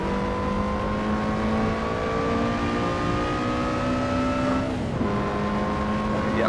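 A race car engine in Assetto Corsa, droning steadily at high revs with a rising whine, then dropping sharply in pitch during a quick downshift before climbing again, loud and continuous with no other sounds.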